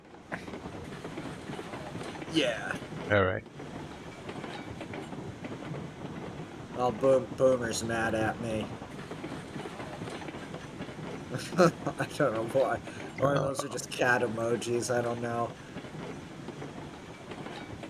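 A train in the Railroads Online video game rolls into the yard, giving off a soft mechanical rumble with faint clanks under frequent casual talk from a player.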